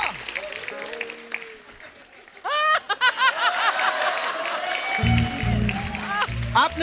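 A studio audience at The Kapil Sharma Show breaks into applause and laughter, building up loudly after a quiet opening stretch with a voice heard earlier.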